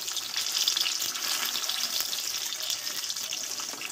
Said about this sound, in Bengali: এই চপগুলো একটু টাইম লাগবে ভাজতে